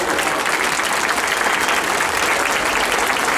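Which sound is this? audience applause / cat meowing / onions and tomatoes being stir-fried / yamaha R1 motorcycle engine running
audience applause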